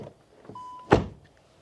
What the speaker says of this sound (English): Nice doors closing sound into the rear.